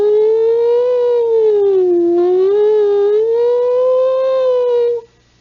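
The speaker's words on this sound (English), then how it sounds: "the sound of a distant, approaching, and receding siren" A siren wails loud and steady, its pitch rising and falling in long slow sweeps as if passing on a street, then cuts off abruptly near the end; no voices.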